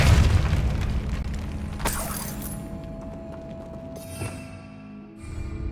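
A Depulso spell blast in Hogwarts Legacy lands as a sharp booming burst, loud and close, with a bright crackling flash and ringing tail against continuous game sound effects and other spell impacts.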